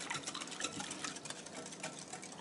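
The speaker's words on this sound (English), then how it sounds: "I'm using a whisk so that it gets mixed in there well." A whisk stirs ground beef casserole ingredients in a bowl, giving a faint, steady run of soft clicks and scraping taps, with no voice heard.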